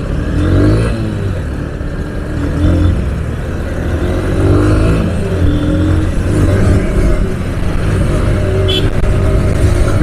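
Honda Hornet 2.0 and Pulsar NS200 motorcycles revving and accelerating together in a roadside race, engines rising in pitch, loud and close, with voices talking over them.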